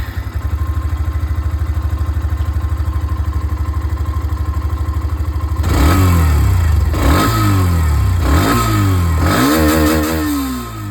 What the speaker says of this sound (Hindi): यहाँ पर एक्सट्रीम की जो आवाज़ है ये भी आप लोग सुन लीजिए